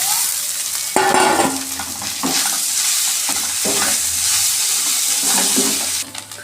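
Small fish pieces fry and get stirred in a pan of onion, turmeric and spices for a rustic-style bhuna: steady loud sizzling with repeated scraping stir strokes, no talking.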